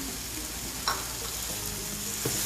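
Banana pieces with cardamom sautéing in a pan for a bread snack, a steady close sizzle with a couple of brief clinks of a utensil against the pan.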